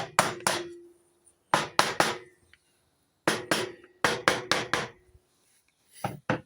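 Side cases of a 1977 NVT Easy Rider moped engine are tapped together during a rebuild, a close series of sharp knocks in quick clusters of two to five with short pauses between.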